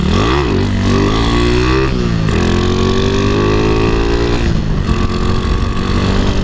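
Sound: Honda Wave 125 motorcycle being ridden on test drive

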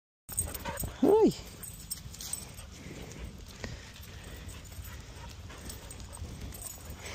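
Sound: beagle dog

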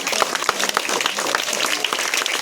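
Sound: loud applause for students

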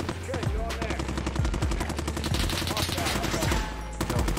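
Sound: suppressing gunfire in the video game Squad

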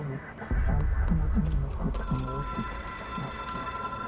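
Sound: telephone ringing in the video game Control

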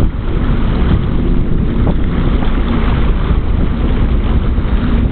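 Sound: boat towing another boat

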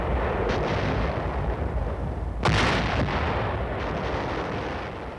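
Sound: artillery barrage firing

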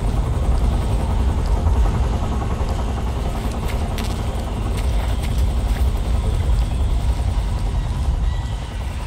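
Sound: helicopter in video game Metal Gear Solid 3: Snake Eater

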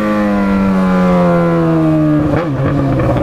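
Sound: Yamaha XJ6 motorcycle engine revving

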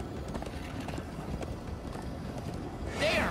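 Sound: horse hooves clip-clopping in Minecraft Story Mode video game

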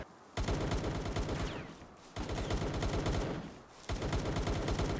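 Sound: gunfire from creatures shooting in the video game Palworld

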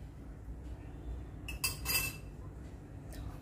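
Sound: stirring melted malai with baking soda in a pan

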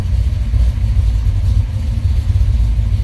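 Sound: car engine being revved while cold

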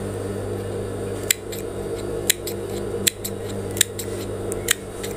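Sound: scissors cutting fabric for a sailor collar

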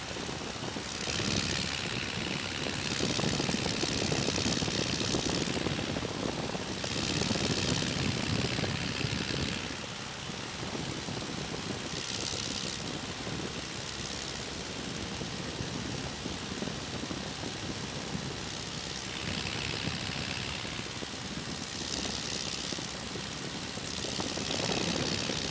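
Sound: de Havilland Tiger Moth open cockpit airplane engine in flight

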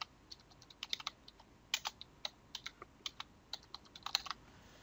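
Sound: typing a password on a computer keyboard

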